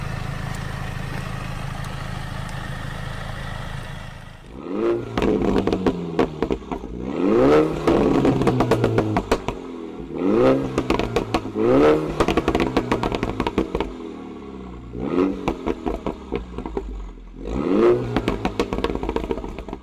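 A 2019 Mini Cooper S with a front-wheel-drive 2-litre engine drives past or accelerates in repeated rising surges of engine revving, loud and close, with clattering in between and a quieter steady hum at the start.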